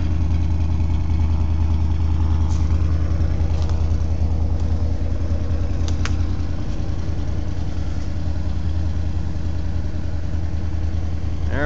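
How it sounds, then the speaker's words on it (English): The generator on a 1984 Fleetwood Southwind RV runs with a steady, loud, low mechanical hum that never varies. A few faint clicks sound over it. "Got a generator right here in the back."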